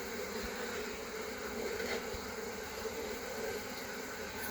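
Bees buzzing steadily around an open Langstroth hive during a frame inspection, a dense continuous drone close by with no talk.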